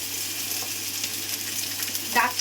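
Pumpkin, bottle gourd, carrot, drumstick and eggplant pieces frying in a pan for sambar, giving a steady close sizzle with a brief louder crackle near the end.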